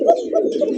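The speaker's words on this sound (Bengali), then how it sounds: "এই যে আপনার কালারিং রাসগোল্লা কবুতর" A pair of colored Rasgolla pigeons at a farm, giving a short, low, throaty coo close by, with a few pulses under a faint voice.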